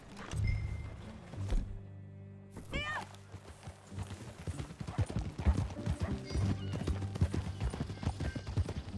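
Horse hooves clip-clop on the ground in Red Dead Redemption 2, with a whinny early on and then a rapid, rhythmic galloping beat that continues steadily to the end.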